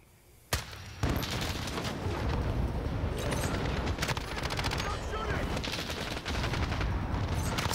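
Rapid automatic gunfire rattles in a Modern Warfare firefight, arriving in loud, dense bursts after a sharp opening shot and continuing almost without pause to the end.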